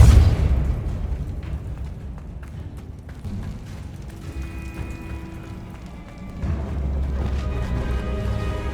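A Confringo fire spell in Hogwarts Legacy bursts into a loud, close explosion that opens with a heavy boom, then fades into a long rumbling wash with a second surge of low roar near the end.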